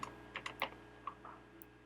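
A value is entered on a computer keyboard as a short run of quiet, close keystroke clicks with uneven spacing over about two seconds.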